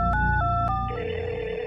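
A telephone being dialed, heard as a quick run of two or three electronic touch-tone beeps followed by a steadier tone, clear and close over a low background drone.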